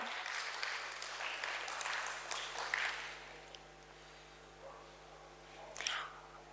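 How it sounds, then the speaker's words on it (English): Audience applause for a business speaker welcomed onstage at a stock exchange bell-ringing event, a broad steady patter of many hands that thins out toward the end, with a brief swell near the close. "Can we please have a huge round of applause for Mr. Samir Patil, everyone?"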